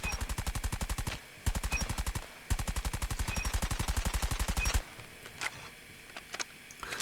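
Rapid automatic gunfire from a gun in the game CBR4, loud and close in three sustained bursts with short gaps, then fading into sparse clicks and quieter background game sounds.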